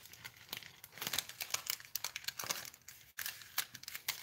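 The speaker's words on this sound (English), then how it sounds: "Let me get a piece of foil out here." Aluminium foil pulled from a pack and crinkled by hand, a steady run of close, dry crackling and rustling with sharp crisp bursts and a brief pause near the end.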